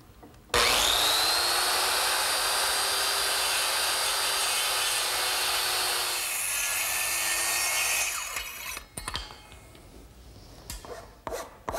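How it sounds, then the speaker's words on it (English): Blade noise from cutting cheek cuts in redwood for an arbor with a circular saw, a loud sustained whine for several seconds, then rough scraping and knocking as the wood is handled. "to make the cheek cuts, I'm going to return to my circular saw"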